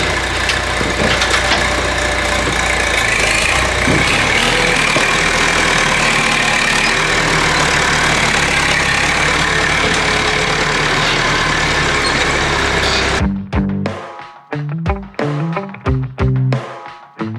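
A steady tractor engine idles loudly for most of the clip on an Irish farm, then cuts off, leaving a few irregular clunks and knocks.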